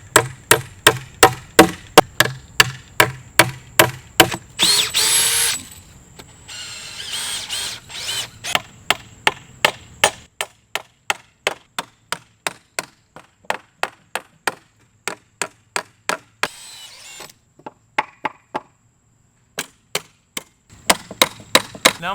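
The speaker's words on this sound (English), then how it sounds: "I'm gonna nail off the joist hanger with these joist hanger nails" Joist hanger nails are driven into a wooden stair stringer with a rapid series of sharp, loud, close impacts in steady bursts, separated by brief pauses and a couple of short whirring power-tool runs.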